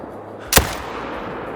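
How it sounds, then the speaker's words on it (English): A single sharp gunshot from a hunting rifle in a wild boar hunting video game, loud and abrupt with a short decaying tail over steady outdoor ambience. "Well, I got 2 shots into him."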